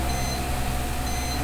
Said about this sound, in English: The alarm was painful, but at least it made me stop thinking about that.